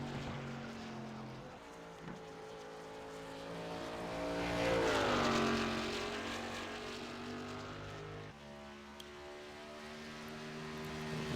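A race car engine on a hot lap in a racing video game, with a steady high-pitched whine that climbs and dips through gear changes and swells to a peak mid-lap, loud and continuous.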